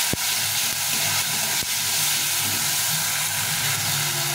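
Tomatoes fry with salt and turmeric in a pan for a fish curry, making a loud, close, continuous sizzling hiss, with a couple of sharp knocks near the start.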